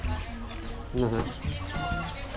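Chickens clucking close by, mixed with a person speaking over them in a noisy outdoor setting.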